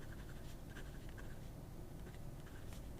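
Steady scratchy scraping of a Jinhao fountain pen with a bouncy number 8 steel nib gliding across paper, close and continuous for several seconds with faint strokes and no talk.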